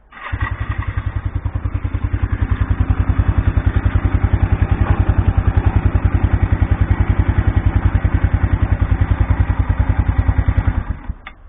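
A 1987 Yamaha SR 125 SE motorcycle engine idles steadily and loudly up close during an oil change, a fast even chugging pulse that holds throughout with no voices.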